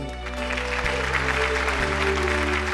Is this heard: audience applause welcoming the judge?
yes